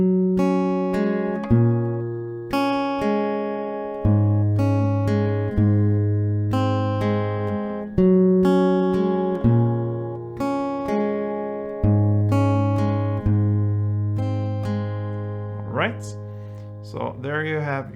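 An acoustic guitar picks the melody of a song over low open bass notes, each plucked note ringing and decaying in an even, unhurried rhythm.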